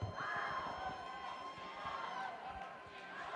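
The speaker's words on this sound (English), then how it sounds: "Let's hear a big round of applause for the captain of the Blue Alliance." A crowd at a FIRST Robotics Competition district event in Ann Arbor cheers and applauds the Blue Alliance captain, with a steady, dense wash of clapping, shouts and whoops sustained throughout.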